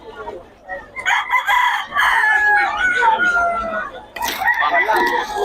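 A young gamecock stag crows loudly and close, one long crow followed by another starting near the end, with people talking nearby in a busy market setting.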